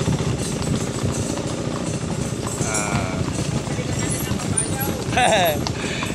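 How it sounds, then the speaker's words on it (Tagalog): Horse hooves clip-clop steadily at a livestock buying site amid a busy outdoor mix of engine rumble and voices, with a brief higher squeal near the end. "Napakaganda ng kabayo mga idol."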